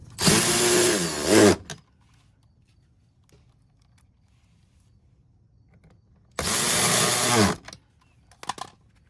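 A power drill drives screws during an LED headlight bulb install on a Honda Pilot, two loud, steady whirring bursts of about a second each, separated by quiet, with a short stuttering trigger burst at the end.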